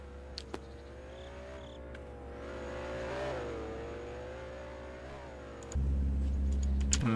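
A Mitsubishi time attack race car runs laps on a circuit, a steady mid-pitched engine drone that swells and fades as it passes, then a sudden louder, closer rumble near the end.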